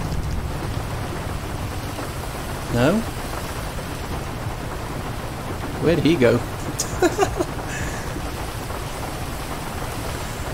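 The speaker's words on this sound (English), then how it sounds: "God, that rain's loud." Heavy rain hisses steadily in a GTA V roleplay street scene, loud and constant throughout, while a player speaks briefly and a few short sound effects cut through.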